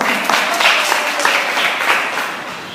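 A crowd applauds steadily throughout, a dense wash of clapping with slight swells, no voices standing out.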